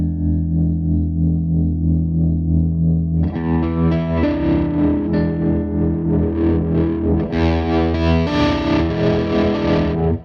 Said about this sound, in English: the tremolo on that, just for fun